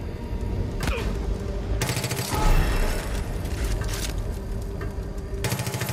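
Gunfire in the Far Cry 5 video game aimed at the player, with dense bursts of shots and clattering impacts over a busy game soundscape, loud and continuous throughout.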